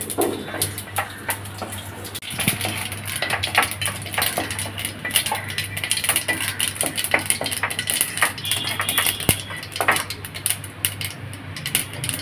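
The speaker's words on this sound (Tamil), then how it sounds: "கடுகு நல்லா பொரிஞ்சு ஓசை அடங்கி எடுத்தோம்." Mustard seeds pop and crackle in hot oil for a baby potato masala fry, a dense, irregular stream of sharp little snaps sizzling steadily and close.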